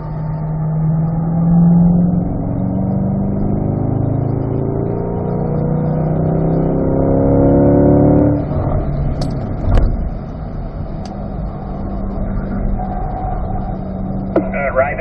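A Chevrolet C8 Corvette accelerates hard around Spring Mountain Raceway, its engine note rising steadily under full throttle before easing off, with a faint click or two and a voice talking over the engine.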